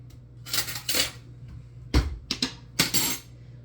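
A clean metal spoon is picked up from among dishes in a kitchen, giving several bright, close clinks and scrapes in short bursts, with a faint low hum underneath.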